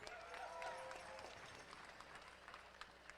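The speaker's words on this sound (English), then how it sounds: "How about a round of applause for Randall Mahoney?" Crowd applause at an intertribal pow wow greets a veteran carrying in a flag, faint and distant clapping with a few brief tonal sounds early on and scattered sharper claps throughout.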